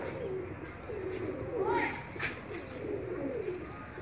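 Soft, low coos from pigeons landing after a high flight in 40°C summer heat, repeating under a steady background hum, fairly quiet and close by, with a faint voice in the mix.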